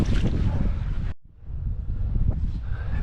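Steady outdoor wind buffeting the microphone beside a brook on a fishing day, a broad continuous rush with a brief drop to near silence partway through before the gusting resumes.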